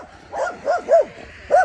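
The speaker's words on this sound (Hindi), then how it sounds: "सारे मोहल्ले के कुत्ते जाग गए मेरे आने से।" Dogs bark in a village on the outskirts of Warsaw, Poland: four loud, close barks in an uneven rhythm with short pauses between them.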